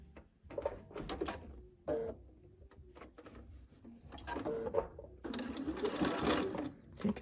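Sewing machine stitching pieces of an Ohio Star quilt block, running in several short bursts of rapid whirring with pauses and fabric handling between, then a longer continuous run near the end.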